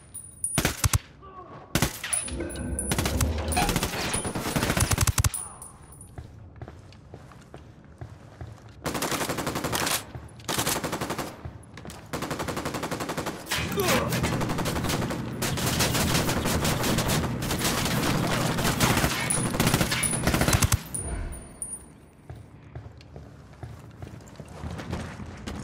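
Mounted machine gun firing in Ghost Recon Wildlands, delivered as loud rapid bursts split by short pauses. Some stretches run as sustained fire, with other game sounds mixed in.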